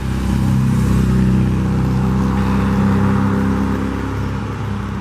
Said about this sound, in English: Got a few cars coming through here